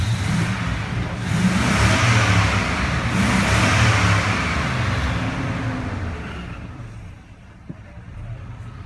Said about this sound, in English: we'll give her a couple revs, see how it sounds